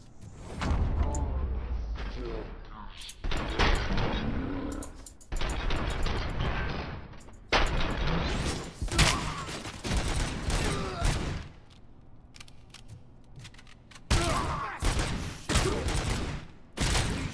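Heavy gunfire rages in Robocop Rogue City, repeated loud bursts and rapid shots in clusters with brief mechanical clanks and short pauses between volleys.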